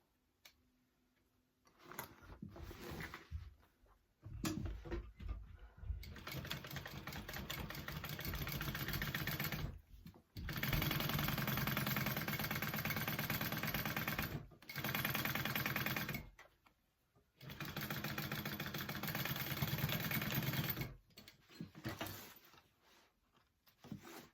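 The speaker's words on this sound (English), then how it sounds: "All right, I'm going to sew that shut." A sewing machine stitches a fabric shoulder bag closed in long, steady whirring bursts separated by short pauses, close and clear with no talking.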